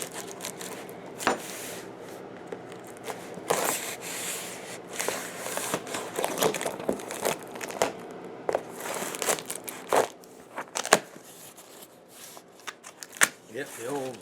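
Firefly guitar shipping box being opened and styrofoam packaging pulled apart, with close, irregular crinkling, scraping and rustling bursts and sharp squeaky crunches throughout, a voice talking over it.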